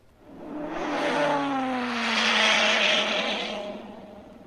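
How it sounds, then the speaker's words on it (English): A shuttle engine in the Star Wars game Dark Forces 2 starts up and takes off: a loud, close whine that climbs steeply in pitch into a roaring rush, then fades slightly as the craft departs. "gets into the cockpit, and starts up the engine and takes off."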